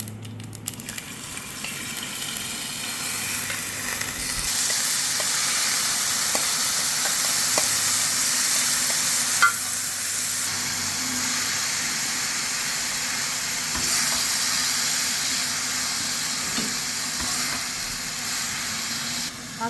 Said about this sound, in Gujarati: વઘાર થાય એટલે દાળ વઘારશું